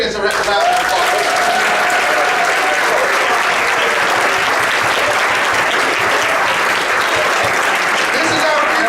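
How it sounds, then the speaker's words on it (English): Sustained, dense applause from a large audience at a youth celebration honoring award recipients, loud and steady throughout with the hall full of clapping and some crowd noise mixed in. "Let's give our recipients a round of applause."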